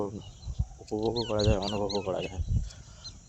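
Birds chirp faintly in short high calls in a village bamboo grove behind someone talking close up, with a few brief calls poking through.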